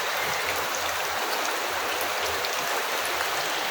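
Heavy rain water leaking through a roof in Taysan, Batangas and splashing into a basin, a steady loud rushing pour with dense dripping, continuous and alone.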